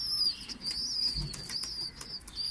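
Pigeons in their coop make a faint flutter of wings and soft shuffling at close range, with recurring thin chirps above a low background murmur and no talking.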